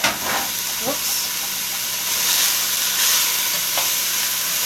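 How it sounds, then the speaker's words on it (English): Food sautés in olive oil in a pan, giving a loud, steady close sizzle and hiss with a few scraping stirs and clinks mixed in. "saute it so it doesn't stick."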